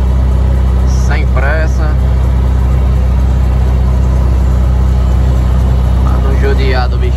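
Low, steady drone of a truck engine pulling uphill in fifth gear on a delivery run to Jacobina, Bahia, constant and close throughout, with someone talking briefly over it at the start and end.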